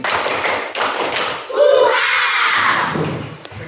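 Three quick hand claps from a group of pupils in a classroom, loud and close, over general room noise and voices.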